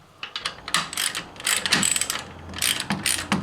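A ratchet wrench clicks in quick bursts while a bolt is loosened on a VW Passat during a water pump replacement. The clicking is near and loud, with brief pauses and no talking.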